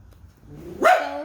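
A single sharp dog bark, close by, rising out of a brief low whine in an otherwise quiet room.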